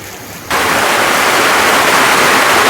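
Heavy rain on a monsoon day bursts in suddenly after a quiet moment and becomes a dense, steady, loud hiss that continues evenly to the end, with no thunder evident.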